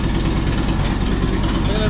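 A Volkswagen engine idling roughly after a cold start, a steady low throbbing rumble close by with no speech.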